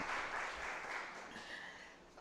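Audience applause at a university orientation, a brief, soft, even patter of clapping that fades slightly, heard alone without talk.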